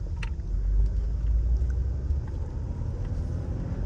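Classic Mercedes convertible on a test drive, low engine rumble rising and easing as it shifts up through the gears, steady road noise throughout with no voices.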